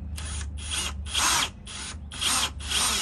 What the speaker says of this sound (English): And then you just simply screw the rest of these screws in.